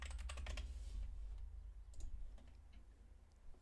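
Rapid clicking keystrokes on a computer keyboard, dense and busy in the first second then thinning to scattered taps, close and fairly quiet with a low hum underneath and no talking.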